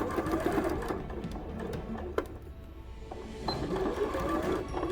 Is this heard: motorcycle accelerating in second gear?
no